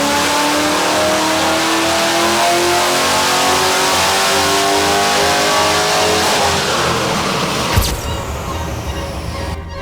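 A cammed V8 ute engine revs hard on a dyno, its loud rising roar sweeping up through the gears for about eight seconds before cutting sharply back, leaving a rough, lumpy rumble.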